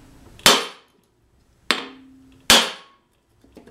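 Sharp metallic taps of a hammer striking to pop loose the flywheel on a Sears Craftsman lawn mower, three distinct close blows with ringing decay, spaced about a second apart, then a faint clatter.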